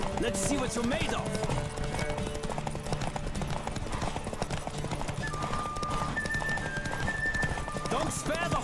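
Racing horse in The Witcher 3 galloping hard, its quick, close hoofbeats drumming continuously beneath music and shouted voices, with a brief whinny mixed in.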